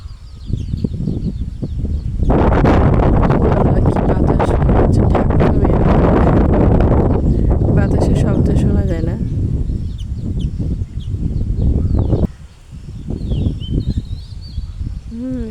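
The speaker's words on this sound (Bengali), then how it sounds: "প্রচুর বাতাস" Loud, blustery wind buffets the microphone almost continuously, gusting hardest in the middle and easing briefly near the end.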